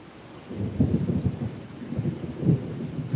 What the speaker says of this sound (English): I think that's some thunder coming.